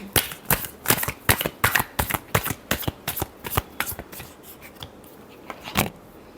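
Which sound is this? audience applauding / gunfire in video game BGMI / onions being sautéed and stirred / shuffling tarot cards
shuffling tarot cards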